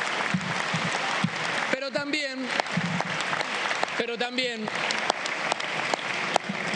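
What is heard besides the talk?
crowd applause for organized workers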